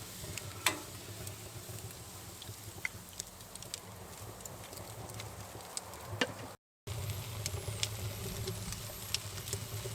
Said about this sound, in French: Allez, on va passer à la cuisson de notre rôti.